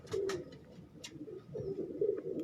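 A pigeon at a breeder's loft gives low, throaty coos in short repeated bursts, close and fairly quiet, with a few faint clicks in between.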